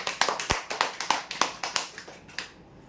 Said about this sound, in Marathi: जोरदार टाळ्या होऊ द्या यांच्यासाठी